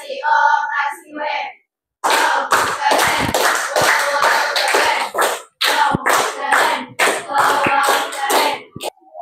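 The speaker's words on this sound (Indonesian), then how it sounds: "Tepuk apresiasi" An eighth-grade class claps in short, rhythmic bursts of applause after a student presentation. A brief voice comes just before the first burst, and the bursts are separated by short pauses.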